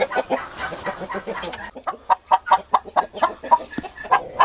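A Cochin hen clucks loudly and close by in a quick, rhythmic series of sharp calls, growing more regular and insistent as it continues.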